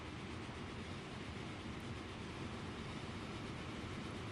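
Train rolling along rails in the Transport Fever game, a steady, dense rumble that continues evenly throughout with no talking.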